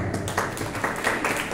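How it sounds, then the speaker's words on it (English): An audience at a Christmas celebration claps together in a steady, dense burst of applause that lasts about a second and a half at moderate volume, with no talk over it. "Let's give a clap."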